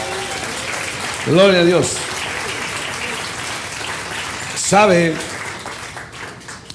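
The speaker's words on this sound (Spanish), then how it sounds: "Denle un aplauso al Señor, hermano" A church congregation applauds steadily as a continuous patter beneath the talk, while a voice gives two short shouts over the clapping.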